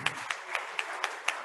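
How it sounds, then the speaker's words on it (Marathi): An audience claps for a Republic Day school celebration, heard as a faint, soft spread of hand clapping pulsing in a steady rhythm for a second and a half, with no speech over it. "जोरदार टाळ्या वाजवा"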